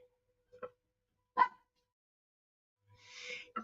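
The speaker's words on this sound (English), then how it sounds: "And you hear my dog?" A small dog gives a few faint, scattered yips and barks with quiet gaps between them, heard indoors at a distance.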